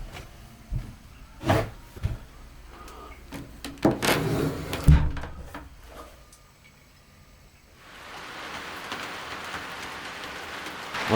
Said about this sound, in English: it's absolutely pouring it down